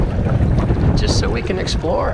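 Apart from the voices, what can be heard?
wind blowing while kayaking on a lake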